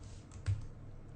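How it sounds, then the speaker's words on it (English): Quiet, close typing on a computer keyboard, a short run of soft clicks with one sharper keystroke near the middle, alone in a still room. "you're going to type ns string"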